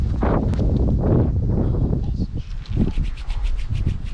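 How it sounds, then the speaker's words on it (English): Strong wind buffeting the microphone in low rumbling gusts, with rustling and scraping close by and a few fainter sharp clicks toward the end. "It's windy as fuck, dude."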